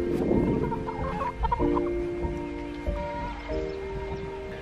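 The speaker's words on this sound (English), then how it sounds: "We have all the chickens in the garden, so it's like a chicken party up here." Chickens cluck steadily in a garden, with some rustling and a faint rooster crow mixed in, close and continuous with no talk.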